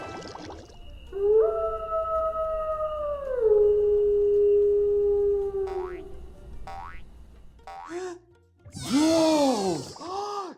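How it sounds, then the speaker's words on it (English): A wolf gives a long, loud, sustained howl that slides gently downward, followed by shorter rising yips and then a wobbly, warbling burst of howling at the end. "Wolves howl like they are singing a big loud sound to their friends."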